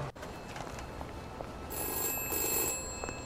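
Inside the video game We Happy Few, a telephone rings with a bright electronic bell tone that starts partway through, fairly faint and steady over a low background hum.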